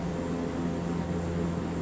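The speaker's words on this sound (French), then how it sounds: "j'entends un des deux vieux avions qui étaient très près de moi là" Old propeller airplanes drone nearby in Microsoft Flight Simulator 2024, a steady low engine hum that holds at an even level throughout with no voices.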